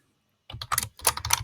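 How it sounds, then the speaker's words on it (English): Typing on a computer keyboard while entering code in a browser console, a short burst of close, crisp key clicks in two quick groups after a moment of silence. "I will just type in console.log"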